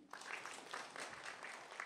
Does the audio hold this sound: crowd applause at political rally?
yes